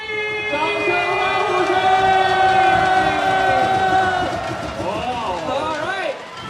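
A crowd at the 2016 FIBA 3x3 World Championships finals in Guangzhou, a 3x3 basketball event, screams and cheers in a sustained roar that swells and then tapers, with voices mixed in.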